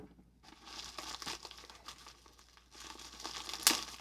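Knife cutting open a plastic bubble mailer, heard as close, quiet crinkling and scratchy tearing of the packaging, with a brief sharp crackle near the end.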